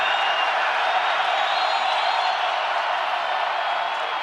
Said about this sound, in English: the crowd is really going to rev it up